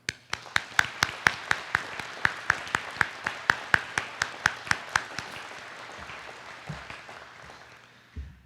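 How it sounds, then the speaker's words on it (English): An audience at a 7th Airlift Squadron change of command ceremony claps in a brisk, steady rhythm of sharp claps, then loosens into a softer scattered round of applause that fades out. "I'm going to ask you to join me in a round of applause for Jason"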